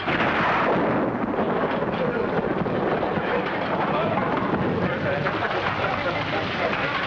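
Heavy rain pours in a dense, steady roar, loud and unbroken throughout with no pauses.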